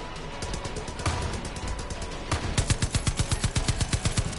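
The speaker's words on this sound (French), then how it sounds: "Fusil à pompe." Rapid gunfire in Far Cry 5, first dense irregular shots and then a fast steady burst of evenly spaced bangs, loud and close, with no speech.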